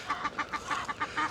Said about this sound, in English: The ducks here are making tons of noise.